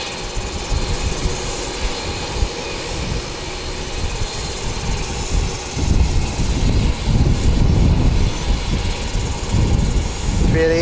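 An Airbus A320neo airliner rumbles at Wellington Airport, a steady engine drone with a low whine that swells louder midway and stays heavy to the end.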